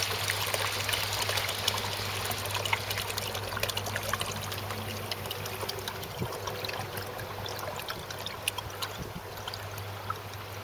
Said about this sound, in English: Now start to see the water refilling inside the tube, pushing the media back up.